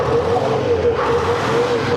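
A telehandler with a swapped Detroit diesel engine revs steadily with a continuous droning tone, loud and close, and does not settle to an idle.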